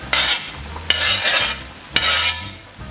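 Chopped tomatoes hitting a pan of frying relish, three sharp clunks each followed by a loud hissing sizzle and stirring, close and without talk.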